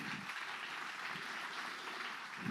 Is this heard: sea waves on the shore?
no